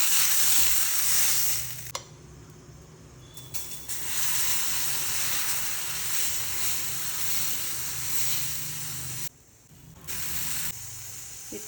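High-protein dosa batter sizzles on a hot pan over low flame, a bright continuous hiss that drops out briefly twice before returning, with no talking.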